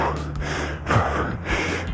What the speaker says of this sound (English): Now you can hear my breathing a little bit.